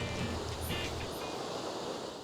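A waterfall in Iceland gives a steady, broad rush of falling water with some wind noise on the microphone, constant and fairly close, with no one talking.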